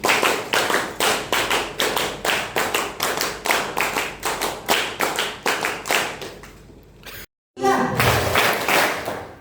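School group at SMAN 1 Kota Serang clapping in unison, about two dozen sharp, evenly spaced claps in a steady rhythm, then a brief pause before a final burst of clapping and voices.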